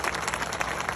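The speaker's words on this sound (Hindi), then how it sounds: "हरीश राव साहब, उनके लिए जोरदार तालियां होनी चाहिए" Dense, steady applause from a crowd, continuous clapping filling the whole moment with no pauses.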